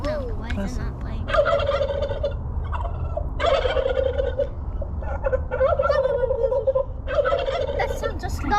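Recorded turkey gobbling plays back in repeated bursts, four or five rapid rattling gobbles separated by short pauses, loud and steady over a faint background hiss.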